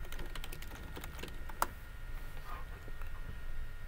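A search being typed on a computer keyboard: quick, light key clicks in an irregular run, close and fairly quiet, with no talking.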